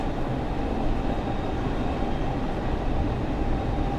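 A commuter train in the Train Sim World game on the NEC Metro-North Stamford route runs with a steady, loud, continuous rumble and rolling wheel noise, without pauses or voices.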